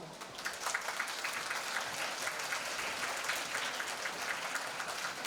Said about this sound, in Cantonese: 我哋首先呢，就一齊嚟一個熱烈嘅掌聲歡迎佢哋先